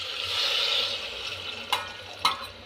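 Water is poured into a pot of simmering mutton curry, giving a steady hissing sizzle that swells and then eases, with two short sharp splashes or clinks near the end. No one speaks.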